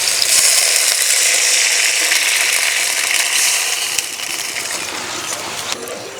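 Water poured into a hot pan of tempered spices while making radish chutney gives a loud, bright, continuous hiss that eases slightly toward the end.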